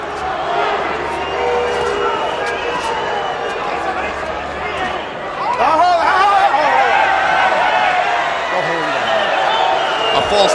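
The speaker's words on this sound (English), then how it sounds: "A false moment of excitement for the Ayala crowd as Morales simply took a knee" Boxing arena crowd during the Erik Morales vs. Paulie Ayala fight, a constant rumble of murmuring that swells into louder excited shouting midway, heard under a commentator's steady talk.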